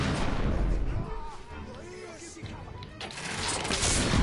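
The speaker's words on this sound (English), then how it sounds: "We are witnessing heavy artillery fire at the moment." Heavy artillery fire in The Order: 1886, with deep booming blasts and rumbling crashes that swell at the start, ease off, then rise again, while some speech runs over the top.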